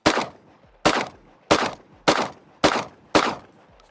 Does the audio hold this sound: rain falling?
no